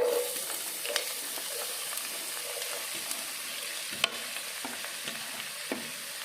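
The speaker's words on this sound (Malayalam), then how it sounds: "സവോളയും പച്ചമുളകും കൂടെ ഇട്ട് കൊടുക്കാം" Sliced onions and green chillies fry in oil for a Kerala chicken curry, a steady close sizzle with occasional sharp clicks and scrapes of stirring, no talking.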